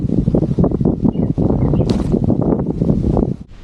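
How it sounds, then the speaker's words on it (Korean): Strong gusting wind buffets the microphone while riding a bicycle on a long-distance cycling tour in China, a dense continuous low roar and rumble that stays loud and steady throughout. "바람 소리가 거세지는데?"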